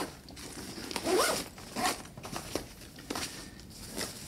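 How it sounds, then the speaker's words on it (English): A Cotopaxi Allpa travel pack being zipped shut, with a few quick, close zipper pulls and light rustling of the fabric and packed clothing; no one speaks. "And then this can be zipped up."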